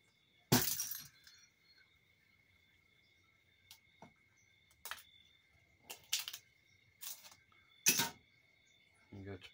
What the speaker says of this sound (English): There goes the ball everywhere.